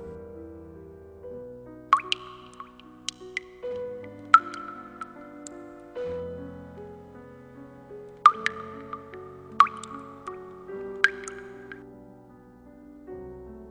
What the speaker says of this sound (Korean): 샤워기에서 떨어지는 물방울 소리만이 선명하게 들려왔다.